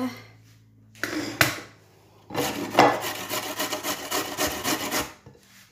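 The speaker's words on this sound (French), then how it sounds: "Et maintenant, je vais râper mes pommes de terre." Potatoes rubbed by hand over a grater in a home kitchen, a close, raspy scraping in two passes: a short burst, then a longer run of steady back-and-forth strokes.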